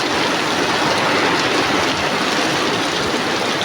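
Heavy rain lashes down with gusting wind during a Kalbaishakhi storm around a tin-roofed house, a dense, loud, continuous roar that never lets up, with no voices.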